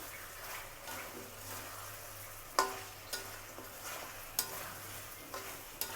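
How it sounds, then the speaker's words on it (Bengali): Chicken pieces and potatoes stir-fried in a pan for a spicy chicken curry: a soft, constant sizzle with occasional sharper spatula scrapes and knocks against the pan, close and quiet. "এখন আলুর সাথে ভালো করে মাংসগুলো আবার কষাতে থাকবো"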